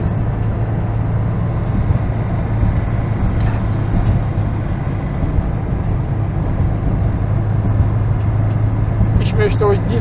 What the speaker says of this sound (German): Viele Autos sind auf dieser Strecke unterwegs.